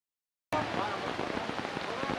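Steady drizzle pattering on the ground at an outdoor football tournament quarter-final. The hiss starts abruptly and stays broad and even throughout, with faint crowd voices underneath.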